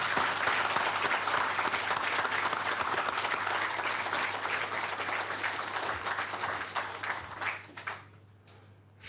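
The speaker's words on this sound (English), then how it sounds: "So may I request you all to give them a round of applause before I move on." Delegates at a rheumatology conference applaud the specialty's founding fathers with a long, dense round of clapping, loud and steady over a faint hum, thinning into scattered claps before stopping.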